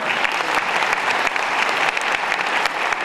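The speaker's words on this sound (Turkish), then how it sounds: "Onları canı gönülden bir kez daha güçlü alkışlayalım." Steady, dense clapping from an audience at an award ceremony night in Sivas fills the whole stretch, loud and continuous without pause or voices.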